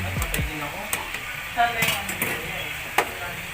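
Soft sizzling of potatoes frying in a pan, with occasional clinks and stirring scrapes of a utensil against the pan.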